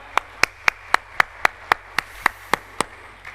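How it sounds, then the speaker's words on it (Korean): At a prayer-retreat service, a congregation welcomes the guest pastor with steady, evenly spaced claps in unison, about twelve sharp beats in a regular rhythm against a quiet background. "강사 목사님 나오실 때 할렐루야로 하나님께 영광을 돌리고 박수로 맞이하겠습니다"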